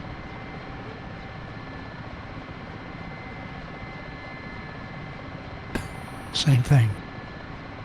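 A Mi-8 helicopter engine in a flight simulator game gives off a steady, even drone throughout, with a voice speaking briefly near the end over a few louder bumps.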